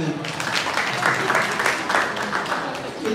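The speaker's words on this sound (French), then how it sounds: "Applaudissez alors pour vous-même" Secondary-school students at a conference at a lycée in Libreville clap for themselves: a dense, steady burst of applause mixed with voices and talk throughout.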